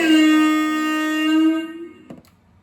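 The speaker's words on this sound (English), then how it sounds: "and you have the air horn." An air horn effect from an RC model boat sound module, one long steady harmonic blast that holds then fades out, ending with a small click, fairly loud and alone.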